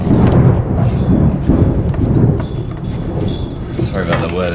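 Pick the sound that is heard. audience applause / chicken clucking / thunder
thunder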